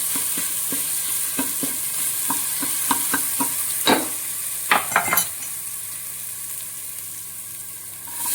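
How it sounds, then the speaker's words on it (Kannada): Ginger garlic paste fries in oil for a chicken curry, sizzling steadily while a spoon knocks and scrapes the pan in a run of sharp clicks, close and loud, then settling into a quieter hiss. "ಈ ಶುಂಠಿ ಬೆಳ್ಳುಳ್ಳಿ ಪೇಸ್ಟನ್ನು ಎಣ್ಣೆಯಲ್ಲಿ ಚೆನ್ನಾಗಿ ಫ್ರೈ ಮಾಡಿಕೊಳ್ಳಿ."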